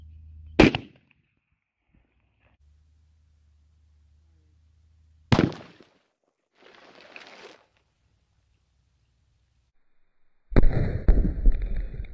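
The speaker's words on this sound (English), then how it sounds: "we're gonna shoot the 175 grain 300 Weatherby LRX" A .300 Weatherby Magnum rifle firing a 175 grain Barnes LRX bullet: two sharp, loud shots several seconds apart in a quiet outdoor setting, the second followed by a brief rustle and then a burst of handling noise.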